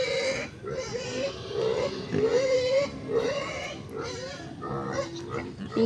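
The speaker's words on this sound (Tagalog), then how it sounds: "Baboy ko eh." Pig grunting and oinking continuously up close, with repeated nasal snorts and squeals, and a person's voice mixed in.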